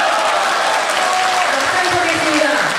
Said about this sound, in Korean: 때때로 박수와 환호가 터져 나옵니다